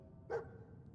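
Dogmeat, the dog in Fallout 4, gives a single short bark, close and clear over a low, steady background hum.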